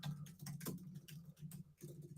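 Computer keyboard keys pounded hard during a sports talk show, a quick irregular patter of close clicks and taps with short pauses between bursts.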